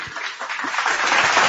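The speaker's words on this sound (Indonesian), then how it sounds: "tepuk tangan dulu" Brief burst of audience clapping, a short dense spell of applause that swells slightly toward the end, during a heated debate with a Bible-scholar pastor.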